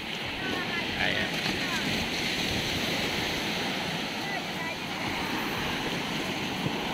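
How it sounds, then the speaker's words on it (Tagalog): Strong ocean waves roar continuously as a broad, steady wash of surf, loud and close, with no breaks in the noise, at a beach in Bagac, Bataan. "Medyo malakas po yung alon."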